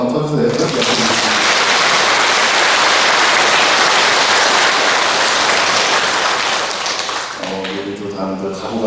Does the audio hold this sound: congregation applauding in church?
yes